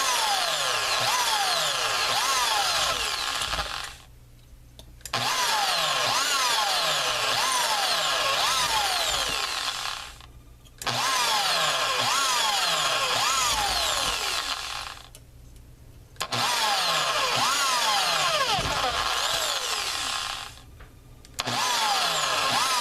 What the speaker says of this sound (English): Using an eighth inch bit for this again.